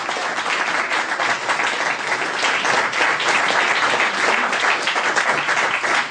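Audience at a salon event applauds loudly and steadily for voice actor Vincent Violette, a dense, even wash of clapping that holds for several seconds with no talk over it.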